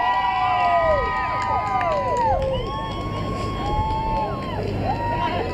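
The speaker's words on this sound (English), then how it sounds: "And the crowd goes wild!" A crowd gathered for students returning to school on Monday morning in Corinth cheers loudly nearby, with rising whoops and shouts over a continuous wash of voices and people talking.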